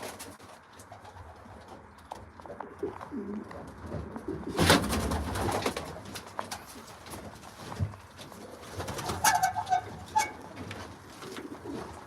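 Racing pigeons cooing inside a loft, soft low coos repeating under someone talking, with rustling and a brief louder clatter partway through.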